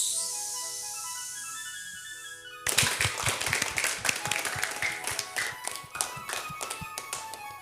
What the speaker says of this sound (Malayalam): Balloon clap, go.